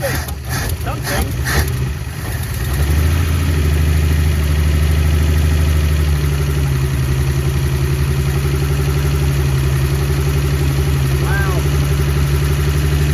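A 1962 Dodge Lancer slant six engine, freshly freed after being seized, cranks briefly then catches and settles into a loud, steady, close idle, with a person's voice briefly heard over it.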